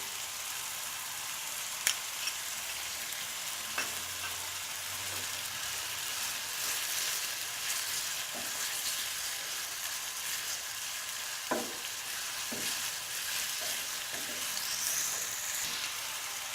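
Ginger garlic paste frying in a hot pan while being stirred, with a steady soft sizzle throughout and a few brief clinks of the spoon against the pan.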